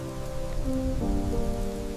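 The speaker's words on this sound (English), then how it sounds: "Beauty here is never loud. It simply endures, even under the heaviest rain." Steady heavy rain pours down in Grindelwald village in the Swiss Alps, a dense, continuous hiss with low rumbling beneath and faint tonal hum mixed in.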